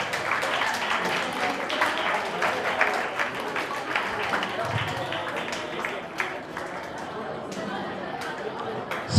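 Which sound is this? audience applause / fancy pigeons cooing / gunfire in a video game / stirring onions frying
audience applause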